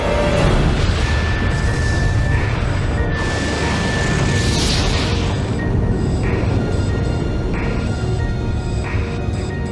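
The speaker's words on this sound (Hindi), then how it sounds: "ये धमाका जबरदस्त होता है और हम इसे कहते हैं सोलर फ्लेयर।" A solar flare explosion sound effect gives a loud, sustained roaring rumble with crackling, dense noise that runs without a break throughout.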